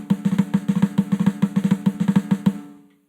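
A drum plays fast Hertas, a rapid continuous stream of close, punchy strokes in repeating short groups, loud and solo, ending abruptly with the last hit ringing out.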